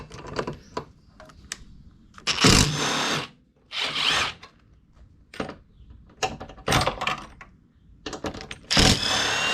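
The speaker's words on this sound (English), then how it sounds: "you're going to have to remove these 2 10mm bolts here and here" A socket tool works loose the 10mm bolts on a Honda Accord 2.0T air intake, with close, repeated mechanical bursts of ratcheting and whirring separated by short pauses.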